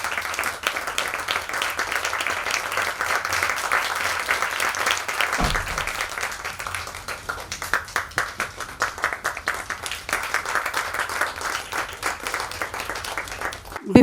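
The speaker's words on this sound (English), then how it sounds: "Let us hear a huge roar of applause." A large audience applauds as Bharatnatyam guru Chitra Visweswaran is welcomed to the stage for a lecture demonstration, long sustained clapping with individual claps standing out, fading slightly toward the end.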